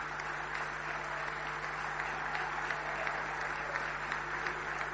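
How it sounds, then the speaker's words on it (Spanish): Large crowd applauding at a political commemoration event marking 30 years of democracy, a steady, distant wash of clapping from a big audience that holds constant throughout, with a low hum underneath. "Un fuerte aplauso para todos ellos,"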